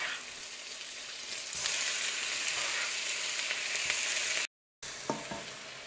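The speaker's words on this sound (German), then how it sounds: "dann werde ich schon mal das Fleisch anbraten" Steady sizzling of meat frying in a hot pan, with a brief cutoff near the end and occasional stirring clicks.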